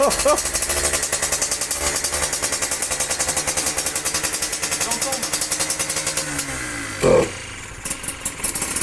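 A Suzuki RMX two-stroke dirt bike engine runs just after starting, a loud rapid even putter close by with voices talking over it and a brief rev near the end.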